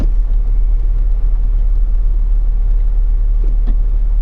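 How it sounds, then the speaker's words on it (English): Outside an old Art Deco convention center in Kansas City, a constant loud low rumble of engines and traffic fills the street where tour buses are parked, steady with no speech. "here we are with all the tour buses"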